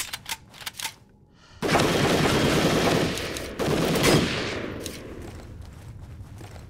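Guns firing in the zombie survival game Zed Zone: a few sharp single shots, then a long, loud burst of rapid automatic fire, a brief pause and a second sustained burst that trails off.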